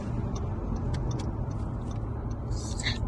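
A Skoda Scala 1.0 TSI 115 PS with DSG gearbox accelerates at full throttle, a steady, loud engine drone filling the cabin with faint ticking on top and no talk.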